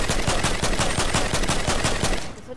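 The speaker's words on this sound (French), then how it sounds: "C'est moi qui tire" Loud automatic weapon fire in a battle royale video game, a rapid, evenly spaced stream of shots rattling continuously for about two seconds before cutting off.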